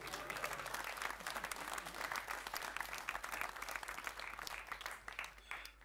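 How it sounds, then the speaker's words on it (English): Audience at a science stage show claps along, a quiet but continuous patter of many hands, fairly even throughout with small swells, no talking over it. "You can clap if you like."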